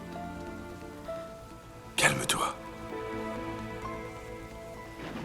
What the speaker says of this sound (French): Exactement la même pluie qui tombait.